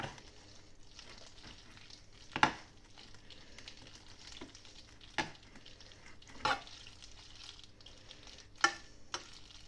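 Cheddar pasta is stirred in a pan over a low frying sizzle, with a few distinct scraping strokes and utensil knocks spaced several seconds apart.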